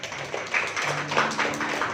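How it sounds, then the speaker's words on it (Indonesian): A church congregation claps together during a Pentecost service, a dense patter of many hands filling the room, moderately loud and continuous across the moment, with no speech over it. "Ya, boleh tepuk tangan."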